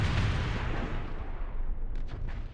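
Heavy ship weapons fire in the space game Starsector, a loud booming barrage that opens with a big blast and rumbles on, decaying, with a few sharp crackling bursts near the end.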